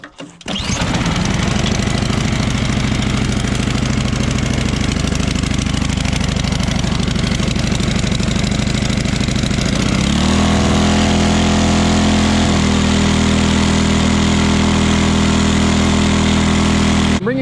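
Ariens 24-inch Deluxe snowblower engine, fitted with a new carburetor and running at a high idle, holds a loud, steady drone throughout, with its pitch dropping slightly partway through.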